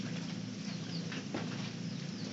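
Rain pattering steadily as a dense, even wash of fine drops, close and continuous with no talk over it.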